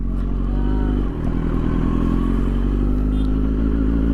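A Kawasaki Z900 motorcycle cruises along a road, its engine droning loud and steady with a brief dip in tone near the start, mechanical clatter riding over the hum, and no talk.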